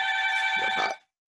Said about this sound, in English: And that's my doorbell.